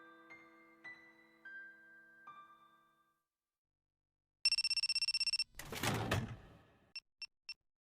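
Anime phone ringing in Voices of a Distant Star: a few sustained electronic chime tones, a brief pause, then a rapid buzzing ring, a short burst of noise and three quick clear beeps, with no talking.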